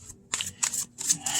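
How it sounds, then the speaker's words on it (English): Playing cards dropping and slapping down in three quick bursts of papery flutter, close and fairly soft, with no talking. "I'm dropping cards"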